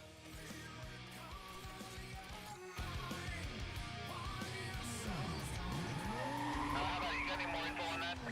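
A Mazda RX-8 in Need for Speed Most Wanted, its rotary engine droning and rising in pitch as it accelerates, with tyre screeches and a shift dip midway, loud and continuous.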